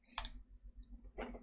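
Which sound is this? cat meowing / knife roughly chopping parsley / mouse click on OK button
mouse click on OK button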